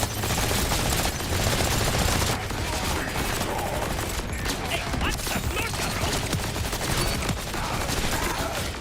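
Rapid gunfire in the video game Borderlands 4, dense, loud bursts of shots running almost without pause, with a faint voice underneath.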